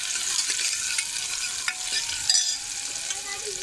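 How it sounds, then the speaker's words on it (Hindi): Grated ginger and garlic being stirred into onion frying in a pan, with a steady bright sizzle and a few soft scrapes of the spoon, close and continuous with no talking. "अभी हम कांदा लाल होने के बाद में इसको डाल देंगे और उसको थोड़ा चला लेंगे"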